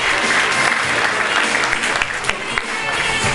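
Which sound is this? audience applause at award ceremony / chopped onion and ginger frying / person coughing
audience applause at award ceremony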